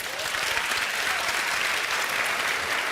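A studio audience at a Turkish TV talk show claps loudly and steadily for the whole moment, with only faint voices underneath.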